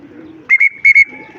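Several short coos from racing pigeons, close and clear, with faint murmuring voices before and after.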